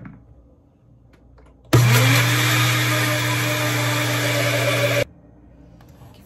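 Electric mixer beating a thick no-bake dessert mixture with oil added gradually, a loud steady whirring motor hum that switches on abruptly, runs for about three seconds and cuts off, with quiet room noise on either side.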